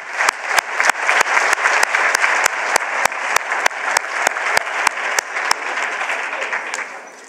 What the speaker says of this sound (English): can we have another round of applause for the VC?